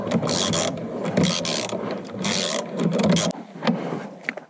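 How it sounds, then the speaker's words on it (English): A ratchet wrench tightens the central nut of a steering wheel spacer on a Fiat 124 Spider Abarth, with loud, close rhythmic clicking in several bursts and a few sharp metallic knocks at the end. "Now just tight the central nut, which is interchangeable with the other one."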